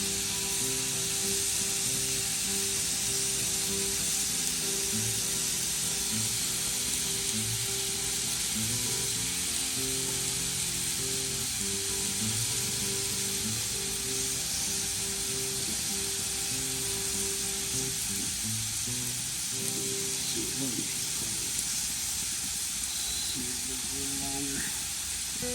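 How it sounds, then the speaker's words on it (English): Guinness-glazed steak kabobs searing on a grill for a Saint Patrick's Day cook, a steady broad hiss and sizzle running throughout with a low hum underneath. "It's got a nice looking sear going to it."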